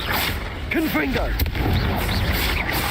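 A Confringo spell blasts in Hogwarts Legacy amid loud, constant combat noise, with a sharp impact near the middle while a voice shouts over the din.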